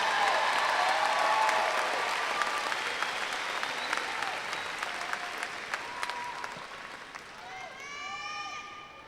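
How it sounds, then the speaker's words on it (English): A crowd at the 2022 South Garland High School graduation applauds the graduating class, loud at first and gradually thinning, with a voice coming in over the fading claps near the end. "Give them a round of applause."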